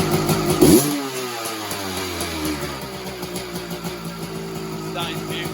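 A 1983 Yamaha YZ250K motorcycle, left sitting for months with an uncleaned carburetor, fires up and idles close by with a steady, rattly two-stroke putter after an initial rev.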